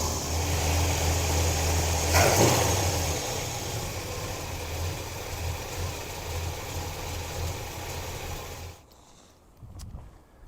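A squarebody truck engine runs steadily with its choke open, a low continuous rumble close by that eases in level and then drops away near the end.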